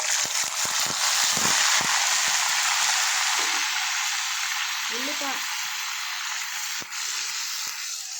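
Chopped onions fry in hot oil for a fish curry, giving a steady, loud, bright sizzle that holds throughout with a few clinks of a utensil stirring, while a voice speaks briefly over it.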